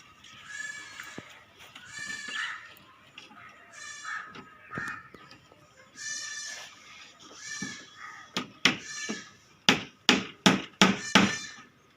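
A wooden plank is hammered onto the side of an animal cage. Bird caws and bleating come first, then a run of loud, sharp, evenly spaced hammer blows near the end.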